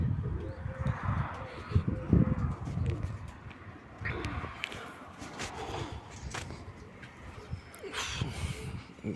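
Pigeons coo softly and intermittently outdoors, a female grey pigeon arriving among them, with a low rumble of wind and brief fluttering bursts.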